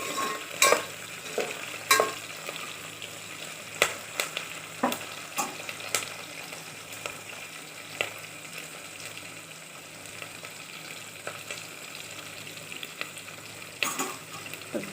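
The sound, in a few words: deep-frying Rayalaseema uggani bajji in oil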